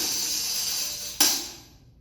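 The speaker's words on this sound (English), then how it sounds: "The other roll we have right after 205 is the shake roll." A tambourine shake roll, a steady bright jingling hiss that ends in one sharp accented strike, the jingles ringing out and fading close up.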